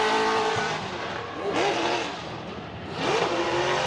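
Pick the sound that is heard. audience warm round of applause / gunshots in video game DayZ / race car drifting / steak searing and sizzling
race car drifting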